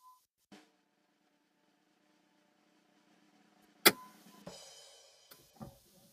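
An abandoned 580hp Mopar V8 with stage two cams cranks and catches, a sharp burst followed by a rough, building idle that settles into a steady run, heard close up.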